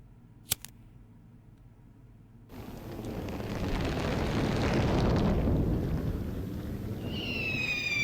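Fireworks bursting in a surreal Chinese puzzle-horror video game: a sudden loud rumbling boom swells and rolls on for several seconds, with a brief click beforehand and a rising whistle near the end.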